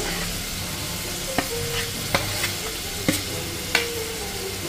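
Khoira river fish simmer in a pan with mustard and a little water, a steady close sizzle and bubbling broken by a few sharp taps and scrapes of stirring.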